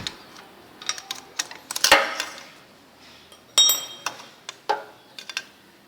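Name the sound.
Tommy bar removing Royal Enfield Classic spark plug cable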